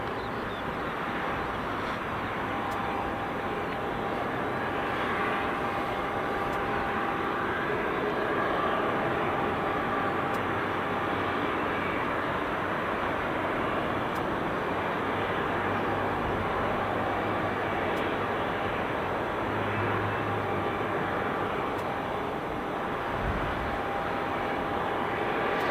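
At Southend Airport, a steady, loud aircraft engine drone fills the whole stretch, an unbroken broadband rumble with no voices over it.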